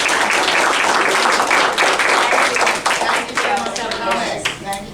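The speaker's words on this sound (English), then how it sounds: "Another round of applause for them" Audience at a board of education meeting giving a round of applause, a loud burst of many hands clapping that thins toward the end as voices start to come through.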